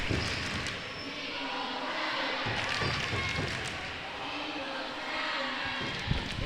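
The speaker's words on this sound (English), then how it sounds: "Crowd is getting into it." A crowd at a high school basketball game between Heritage and Camas roars steadily and loudly throughout, under a commentator talking.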